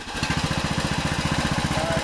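A 2008 John Deere LA115 100-series riding lawn mower engine runs steadily up close, with a regular chugging pulse that holds loud and even for the full two seconds.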